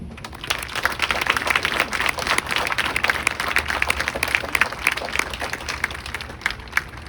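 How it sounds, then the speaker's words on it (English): A crowd applauds Coast Guard recruits at an outdoor sunset parade in Cape May, a continuous wash of many hands clapping at a steady, moderate level from start to finish. "Let us have a round of applause for these recruits to show them our support."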